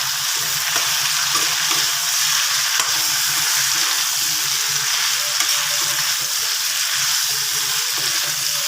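Pork and Assamese potatoes fry in a pan while being stirred, giving a loud steady sizzle with repeated scraping strokes, close up and with no talking.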